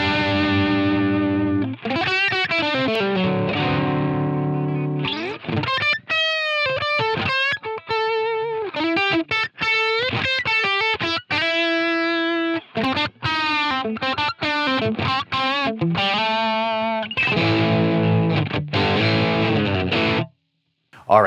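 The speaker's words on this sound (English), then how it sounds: "this is what just the raw amp sound is going to be" Distorted electric guitar through a Line 6 Helix amp model, playing chords and bends with a thick, saturated tone, loud and continuous.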